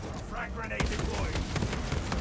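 Grenade blast in a shooter game, a sharp close detonation about a second in, followed by a run of rapid gunfire cracks and thumps against dense battle noise, with a voice calling out just before.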